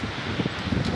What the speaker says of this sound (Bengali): আমাদের এখানে অপরিমাণ ঝড় হচ্ছে